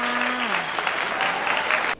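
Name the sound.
children clapping for themselves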